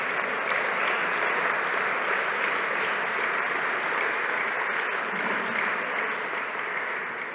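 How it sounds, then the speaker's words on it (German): An audience applauds a synagogue choir and pianist at a formal evening event in a hall, a dense, steady round of clapping from many hands that holds throughout and tapers slightly at the end. "Auch da nochmal ein Applaus."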